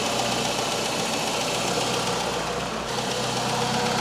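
A Citroen CX GTi engine idles steadily with a low, even rumble and faint mechanical ticking, continuous throughout and fairly quiet, with no voices.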